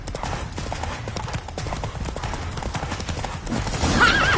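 Horse hooves clip-clop at a gallop in The Witcher 3 video game, a steady close rhythm under game music and effects, with a brief whinny and rising sounds near the end.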